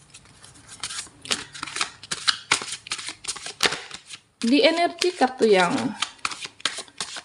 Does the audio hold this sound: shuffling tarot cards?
yes